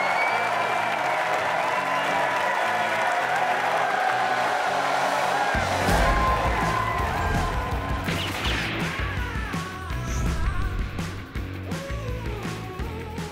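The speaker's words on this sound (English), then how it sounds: "Please just give a round of applause to everyone you saw tonight." A comedy club audience at Comedy Unleashed breaks into loud applause and crowd noise over tonal music, swelling and then thinning toward the end.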